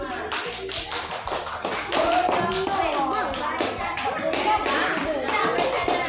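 Fifth-grade classroom students clapping for a group, a loose patter of hand claps and desk taps close by, with children's voices and chatter over it.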